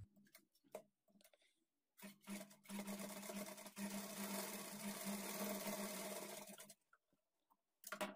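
A sewing machine stitching a lining blouse runs in a steady loud whirr for several seconds, preceded by short start-stop bursts and a few clicks.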